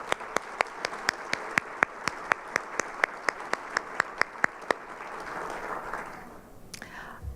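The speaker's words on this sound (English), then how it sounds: "Let's give them a round of applause." An audience at a school district excellence awards program applauds, with one nearby clapper striking sharp, evenly spaced claps over softer crowd clapping that fades out near the end.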